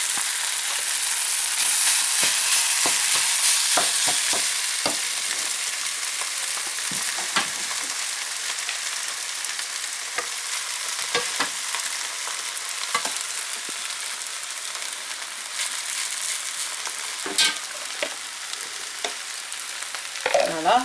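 Rice stir-fried in a hot pan for Thai-style fried rice, a continuous close sizzle broken by frequent scraping and tapping of a spatula, with no talk.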